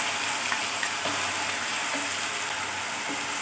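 Steady sizzling of fish curry ingredients frying in a pan until reddish, with a few soft stirring clicks over continuous crackling hiss, close and moderately loud, no voices.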